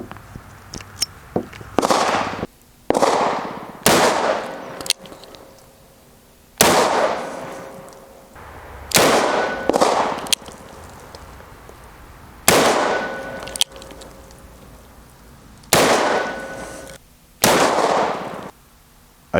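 A Smith & Wesson 29-3 Silhouette .44 Magnum revolver fires a series of loud, sharp reports, some in quick pairs and others spaced by pauses of a few seconds, each ringing off briefly, with no talk.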